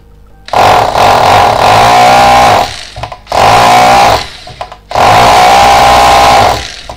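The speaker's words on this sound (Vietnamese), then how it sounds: "Chức năng khoan bê tông." A Japanese domestic-market power drill runs in concrete hammer-drilling mode in three long bursts separated by short pauses, a loud, steady buzzing whine with rapid rattling impacts close to the microphone.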